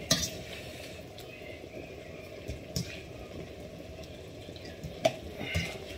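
Cooked chicken scooped out of a pan with a utensil: a few sharp scrapes and clinks against the pan, strongest near the start and end, over a faint steady sizzle.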